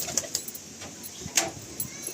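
Giribaz Nasal pigeons coo softly in a crowded breeding loft, with scattered faint coos and light rustling among many paired birds.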